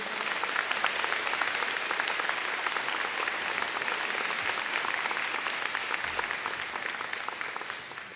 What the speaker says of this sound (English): Can we give a big round of applause for Miss Heatley?